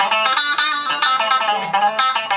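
Charvel Green Meanie custom electric guitar on its out-of-phase pickup setting gives a thin, nasal clean tone, played close in a steady strummed rhythm with no voices.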